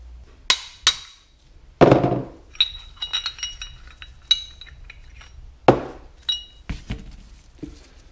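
Clutch bearing on a Caterpillar Ten tractor being worked out of its housing, with sharp metallic taps and clinks spaced irregularly, a few louder knocks among quieter scraping touches, close up.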